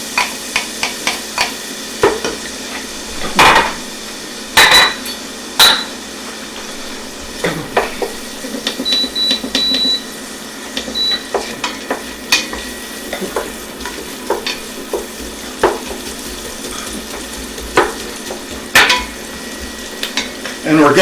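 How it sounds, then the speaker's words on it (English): Onions going into a pan and sautéing for butter chicken, with repeated stirring and utensil scrapes over a steady close sizzle and occasional clinks of cookware. "we're going to go ahead and saute these till they're translucent or just beginning to clear up"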